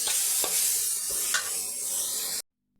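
Kolmi greens frying in a pan give a bright crackling sizzle, broken by a few scraping stirs, before the sound cuts off abruptly near the end.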